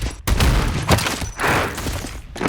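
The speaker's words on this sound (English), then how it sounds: "Anyways, stun grenade." Stun grenade going off in Garry's Mod on gm_flatgrass, a burst of loud thumping bangs with rough, noisy tails over about two seconds, no talking.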